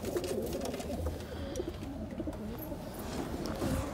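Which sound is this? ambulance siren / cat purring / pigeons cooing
pigeons cooing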